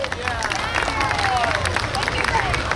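A crowd at an outdoor New York State Police special operations exhibit claps and applauds steadily, a dense patter of many hands with babble and voices mixed in.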